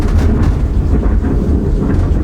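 Thunder from a nearby storm during rain, a steady low rumbling roar that fills the whole stretch, loud and continuous with no talking.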